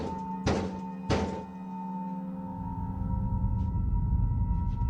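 Two heavy, loud thuds land about half a second apart, like kicks against a door, followed by a sustained low rumble and faint soft knocks.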